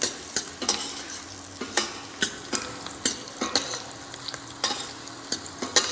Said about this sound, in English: we are going to add the carrot to it. We are going to saute that also nicely